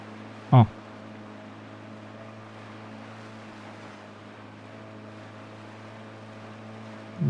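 A fast motorboat in the video game Drug Dealer Simulator 2 gives a steady, droning engine hum over water, with a single short thump early on and another at the end.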